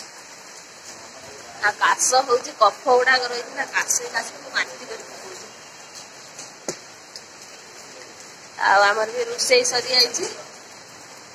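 Light rain falls steadily as a soft, continuous hiss beneath people talking in a household setting.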